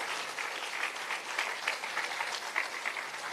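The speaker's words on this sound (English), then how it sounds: "Another round of applause, ladies and gentlemen." Steady applause from a crowd at a beach club grand opening in St Thomas, a continuous patter of clapping held at a moderate level throughout.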